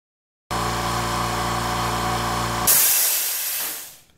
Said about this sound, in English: Now we'll test the California Air Tools compressor.